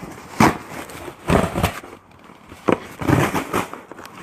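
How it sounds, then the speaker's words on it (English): Cardboard shipping box for a claw-game prize being torn open by hand, with several rough ripping bursts in irregular rhythm, close and moderately loud. "That is the sound of me ripping the box open."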